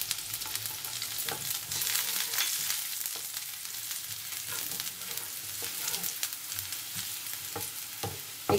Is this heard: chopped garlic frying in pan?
yes